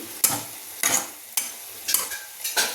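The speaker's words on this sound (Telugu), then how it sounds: "ఉల్లిపాయ ముక్కలు కూడా బాగా వేగాయి. ఇట్లా కొంచెం బ్రౌన్ కలర్ వచ్చేంత వరకు వేయించాలి." Onion pieces fry in oil while being stirred, giving five separate scraping, sizzling bursts at irregular intervals over a quiet background.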